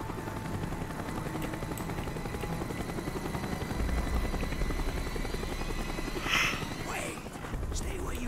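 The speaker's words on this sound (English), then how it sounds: "chopper. He's coming around again." A helicopter circles overhead in the Call of Duty Black Ops shooter, its steady rotor chop and engine drone filling the scene, with voices talking over it.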